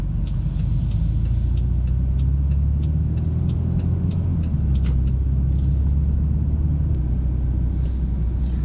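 A car on a Nova Scotia road test idles and rolls forward with a steady, low engine rumble close by, the pitch shifting slightly as it pulls out; no voices.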